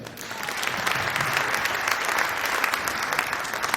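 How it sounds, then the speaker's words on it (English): A big round of applause from the audience at a beginning band demo night, dense steady clapping lasting throughout at moderate level, with no talking over it. "Big round of applause at the beginning."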